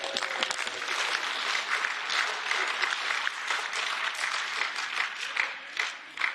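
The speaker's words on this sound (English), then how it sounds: "we missed the very end of Mr Farage's last speech because you were all cheering" MEPs in the European Parliament chamber cheer and applaud during a Brexit Party clash, a dense, steady roar of crowd noise that swells and dips slightly without pause.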